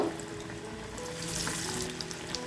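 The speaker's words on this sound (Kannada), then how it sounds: "ಎಣ್ಣೆ ಚೆನ್ನಾಗಿ ಕಾಯಿದ ಮೇಲೆ ಮೀಡಿಯಮ್ ಫ್ಲೇಮಲ್ಲಿ ಇಟ್ಕೊಂಡು ಹಾಕ್ಕೊಬೇಕು" Chana dal batter fries in well-heated oil over a medium flame, a dense continuous sizzle close by that swells slightly midway, with small bubbling pops and no talk.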